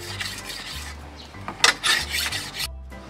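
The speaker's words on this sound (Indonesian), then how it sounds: "kita asah dulu supaya tajam, nanti baru kita bakar ya" A machete blade being sharpened with a file or whetstone before heat hardening, giving repeated rasping strokes at close range, uneven in rhythm, with brief pauses between passes and no talk.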